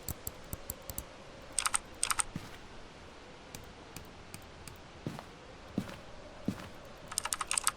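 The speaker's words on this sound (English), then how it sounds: "They have really satisfying clicking noises in this game for the mouse and the keyboard." Keyboard and mouse clicks in the video game Phasmophobia come as quick, crisp taps, scattered singly and in short bursts, fairly close and quiet, with no talk.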